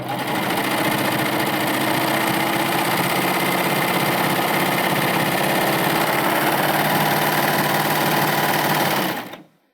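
A Baby Lock Euphoria serger runs steadily over swimwear fabric with a loud, fast, even whirring hum, then stops abruptly at the end.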